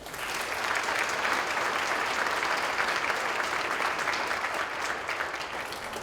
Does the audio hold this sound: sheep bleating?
no